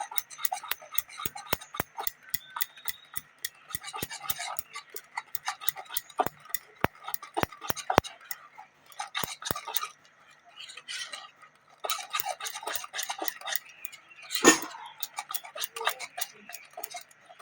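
A spoon clicks rapidly against a bowl while poya pitha batter is stirred with powdered milk, a steady, close run of ticking strokes with brief pauses and one louder knock near the end.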